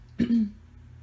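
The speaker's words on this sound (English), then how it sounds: "I'm sorry, I'm clearing my throat a lot." A single short, close throat clearing, a brief rough vocal rasp lasting under half a second over a quiet background.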